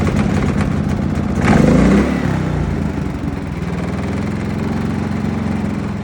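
A well-used Predator generator engine runs steadily close by, with one brief surge in the first couple of seconds before settling into an even drone.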